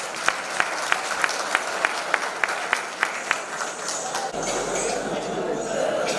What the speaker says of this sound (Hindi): तालियों की कंजूसी मत करो यार।